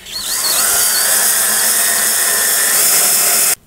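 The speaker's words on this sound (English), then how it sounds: "I'm just putting this in with 2-inch screws." A power drill whines loudly and continuously as it drives 2-inch screws into wood for a wooden crate, one sustained run of a few seconds that cuts off sharply at the end.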